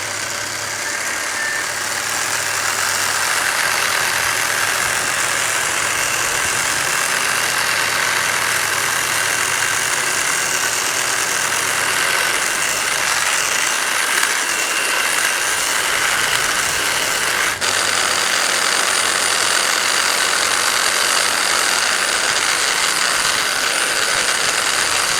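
EGO carbon-fiber hedge trimmer attachment, battery-powered, running while cutting a hedge: a steady high-pitched motor buzz that continues unbroken for the whole stretch, close and loud, with no talking.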